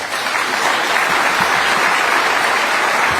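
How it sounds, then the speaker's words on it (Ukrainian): An audience applauds loudly at an event where Zelensky presents the UNITED24 fundraising platform's results, with steady, dense clapping that stays even and close for the whole stretch. "Оплески."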